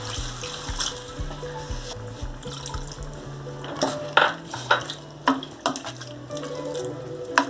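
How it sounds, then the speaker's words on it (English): Water runs and splashes into a pan of chicken curry, with the clink and scrape of stirring against the pan. The sound is close and moderately faint. "Add some more water."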